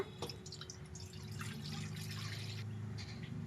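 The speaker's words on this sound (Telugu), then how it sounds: "ఇప్పుడు కడాయి పెట్టుకొని అందులో వాటర్ వేసుకుందాం" Faint splashing and trickling of water going into a kadai for boiling pasta, in short irregular bursts over a low steady hum.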